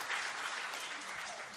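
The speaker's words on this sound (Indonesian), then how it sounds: "Tepuk tangan yang meriah bagi Tuhan Yesus." A church congregation breaks into loud, sustained applause, many hands clapping together in a continuous roar that gradually eases off toward the end.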